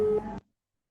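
A telephone busy signal from a call that fails to connect, one short steady tone that cuts off and leaves silence.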